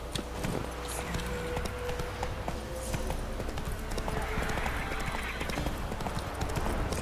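Hooves of a horse in Witcher 3 clip-clop in a fast, steady galloping rhythm, close and continuous, over a constant background rumble.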